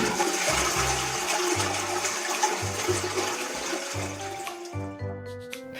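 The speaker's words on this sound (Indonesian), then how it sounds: "Sekarang ayo kita siram fesesnya." A toilet flushes with a loud, steady rush of water that churns for several seconds and then tapers into a gurgling refill, with a low pulsing hum running underneath.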